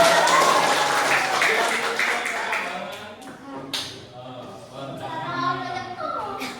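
Students in a classroom break into applause, a dense burst of clapping that thins out after a few seconds as voices take over, with talk running through it.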